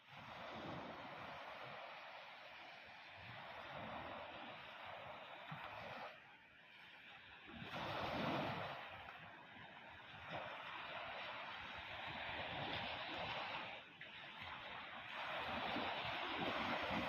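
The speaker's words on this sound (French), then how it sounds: "comme les vagues de l'océan" Steady ocean surf rolls and washes in broad swells, with wind noise over the microphone, continuous and moderately loud.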